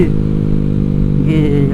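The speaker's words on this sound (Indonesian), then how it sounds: "sekarang kita mau test ride ya Vario 150 dengan knalpot Black Devil" A Honda Vario 150 scooter with a Black Devil aftermarket exhaust runs loud and close with a deep, steady drone. The pitch lifts briefly near the end as the throttle is blipped.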